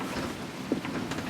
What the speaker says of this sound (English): thunder and lightning going on outside, and it's scary